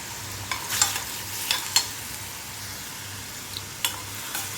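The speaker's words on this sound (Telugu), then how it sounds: "ఆయిల్ అయితే హీట్ ఎక్కిందండి, ఆనియన్ పేస్ట్ వేసుకుందాం" Onion paste fries in hot oil with a steady soft sizzle, broken by several light clinks and scrapes from a stirring spoon.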